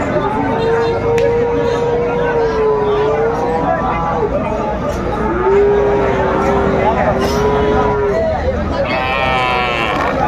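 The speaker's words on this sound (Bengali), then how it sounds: "সুন্দর মানের ষাঁড় একটি দেখছিলাম আমরা" A bull moos repeatedly at a busy cattle market, long drawn-out lowing calls rising and falling over a steady hubbub of crowd noise and chatter.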